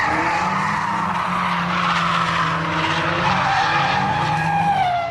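Drift cars skid and squeal continuously on a wet track, tires hissing and engines revving loudly in a sustained sliding roar.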